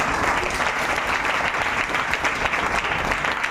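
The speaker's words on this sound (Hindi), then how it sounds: "ताली बजाए।" A church congregation claps together in a sustained, dense burst of applause, even and steady throughout, with no speech over it.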